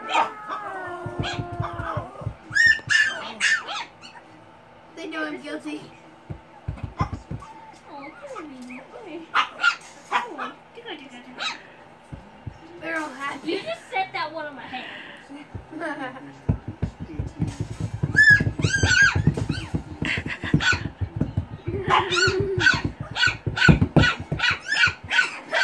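Puppies yip and bark in rapid, high-pitched bursts close by, with whimpers between and people talking over the commotion.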